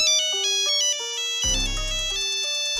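A Nokia mobile phone ringtone plays its familiar tonal melody, loud and clear on its own, with a brief low thump partway through and no talking.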